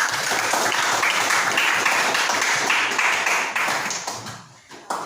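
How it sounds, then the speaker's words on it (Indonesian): A class of students claps together during a Balinese language lesson, a close, lively round of hand claps that thins and fades toward the end. "Ingat tepuk tangan sama-sama."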